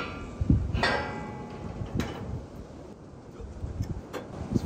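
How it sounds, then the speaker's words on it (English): Gusty wind buffets the microphone with low rumbling bursts and soft rustling, steady throughout with no voices. "It's very windy today."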